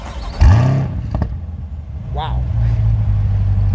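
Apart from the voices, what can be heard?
small block V8 engine revving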